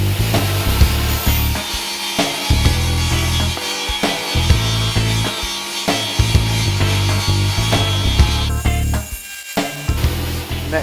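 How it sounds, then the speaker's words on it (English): Table saw cutting slots in wooden workbench rails, a loud continuous whine with repeated dips and surges as the blade bites into the wood, close and alone without talk. "Next, to use the table saw to cut slots for the shelf ledgers"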